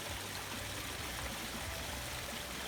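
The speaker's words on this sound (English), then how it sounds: "And take a look at this waterfall." Steady splashing of a small waterfall tumbling into a garden koi pond, continuous and fairly close, with no voices.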